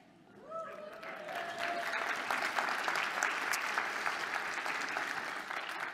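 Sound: audience round of applause for teacher

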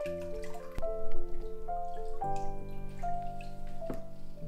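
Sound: water straining and dripping from papermaking mold and deckle

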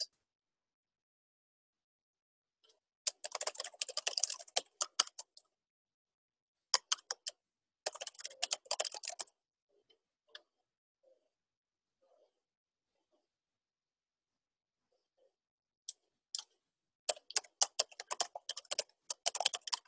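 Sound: typing a password on a computer keyboard

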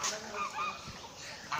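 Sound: ducks quacking before slaughter

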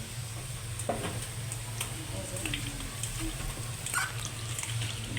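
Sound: meat frying in a pan

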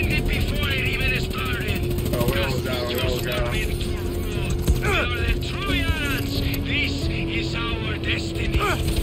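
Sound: helicopter in the video game Far Cry 6

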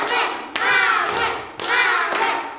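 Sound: applause for Manuel

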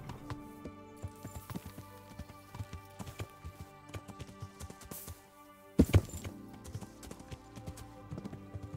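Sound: horse trotting in video game Kingdom Come: Deliverance

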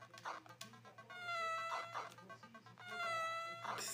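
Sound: cat meowing in a video game

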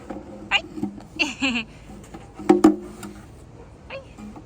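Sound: cat meowing

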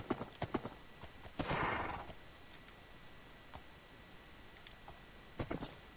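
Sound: donkey walking in Minecraft video game

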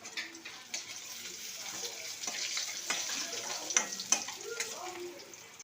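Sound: frying pointed gourd (potol) in a pan

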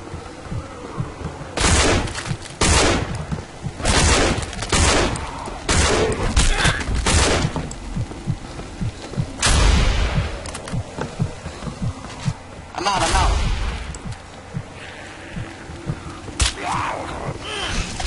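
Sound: gunfire in video game No More Room In Hell

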